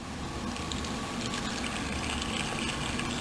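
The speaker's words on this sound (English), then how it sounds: "And then I put some water in it." Water poured into an Oster blender jar in a home kitchen, a steady broadband splashing gush that runs without pause, fairly close and moderately loud.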